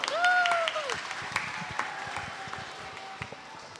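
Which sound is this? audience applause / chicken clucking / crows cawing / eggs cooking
audience applause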